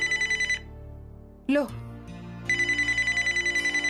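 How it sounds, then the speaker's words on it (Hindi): A mobile phone rings indoors in a Hindi TV serial scene, its repeating electronic ring tone bursting in close and loud, breaking off while a voice speaks briefly, then resuming. "फोन यहीं बज रहा है इसका।"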